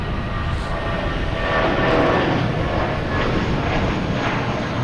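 A JetBlue Airbus A320 airliner departs Boston Logan, its engines making a steady broad roar that swells slightly near the middle and stays loud throughout.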